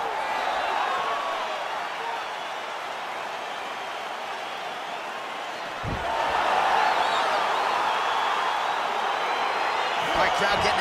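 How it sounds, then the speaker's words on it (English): An arena crowd in the EA Sports UFC 4 video game as a fight gets underway, with a broad, steady wash of cheering and roar that lifts noticeably past the midpoint and stays loud to the end, with no talking over it. "crowd getting excited as this fight gets underway"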